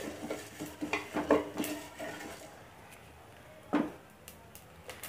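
Coriander seeds, cumin and fenugreek dry-roasting in a pan for Andhra karam podi, stirred with a spoon: soft scraping strokes and light clinks, busy at first, then one more close stir after a quiet pause.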